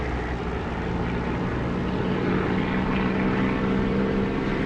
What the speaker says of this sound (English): I'm taxiing the runway now